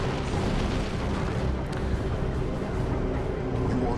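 Sentinel Missile Launcher barrage in Dawn of War II: Retribution, a continuous dense roaring rumble of launches and impacts that holds steady and loud for the whole stretch.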